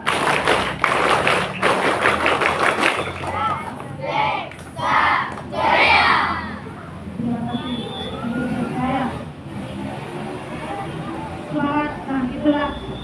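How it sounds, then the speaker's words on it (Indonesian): A crowd of Scouts at a Pramuka Day ceremony claps the rhythmic Pramuka clap in unison, a burst of sharp collective claps followed by loud group shouting and cheering outdoors. "Satu kali tepuk Pramuka."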